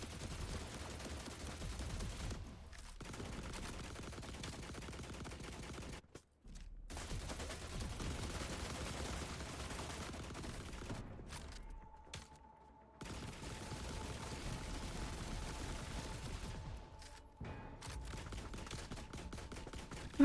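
Sustained rapid gunfire in a video game as the player shoots pieces off a spherical enemy, dense bursts running nearly continuously with a few brief pauses.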